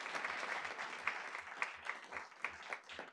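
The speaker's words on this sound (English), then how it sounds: "let's have a round of applause for our staff" A city council work session audience applauds its public works staff, a steady patter of many hands clapping with a few louder bursts, moderately close and fairly quiet, with no voices over it.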